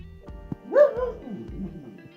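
A single pet dog's bark rises sharply near the middle, loud and close, followed by a shorter whining tail over a low background hum, recorded from old home footage.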